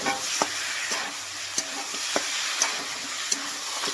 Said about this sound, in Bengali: ভালোভাবে মশলাটা কষে নেব